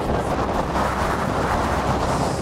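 Strong headwind buffeting a cyclist riding across the open United States, a loud, continuous roaring rush of wind close at the microphone, steady with no breaks or voices.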